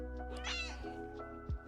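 A cat meows in a drawn-out, whiny cry near the start, with a couple of softer, shorter mews following, close and clear over a low steady hum.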